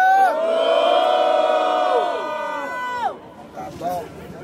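A crowd at the Batalha do Coliseu rap battle roars and whoops for RDX, giving a loud sustained cheer with shouted voices that fades out after about three seconds into scattered calls.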